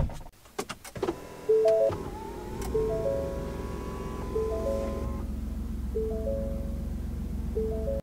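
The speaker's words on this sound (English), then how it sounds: "The steering wheel is automatically adjustable." Soft electric motor whirring in short repeated bursts as the power steering wheel of a 2021 Ford F-150 Tremor pickup adjusts, heard close inside the cab over a low steady hum after a few clicks.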